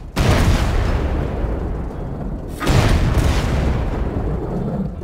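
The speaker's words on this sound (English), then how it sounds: "3 shots as quick as we can" Loud, booming gunshots from a Pantera 43, fired in quick succession; two heavy blasts stand out, each trailing into a long reverberant rumble.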